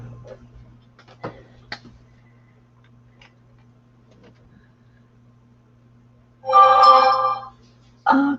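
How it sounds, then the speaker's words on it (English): A mobile phone rings in a short, loud electronic burst after a stretch of near-quiet room tone with faint clicks, then a second brief ring starts at the end during a craft printing session. "now my phone's making noise"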